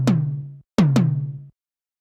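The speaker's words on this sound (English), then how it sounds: "So we can almost play kind of this pitched tom roll." Pitched 80s-style synth tom hits from a drum machine, three strikes in a quick roll with a short pause after the first, each with a sharp attack and a sustained, gliding tonal body, loud and dry with no voices.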